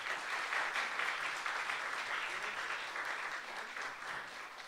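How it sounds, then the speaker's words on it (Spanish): A hall audience applauds a psychologist being honoured at a recognition ceremony, a steady dense patter of many hands clapping that holds evenly throughout and tapers slightly at the end. "Un aplauso para ella."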